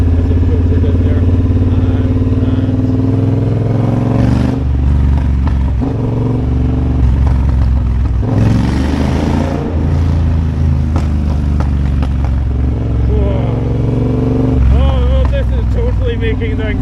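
Triumph Bobber motorcycle on a ride through a city street, a loud steady engine drone with rushing wind close to the rider, swelling in a few bursts, while a voice talks over it.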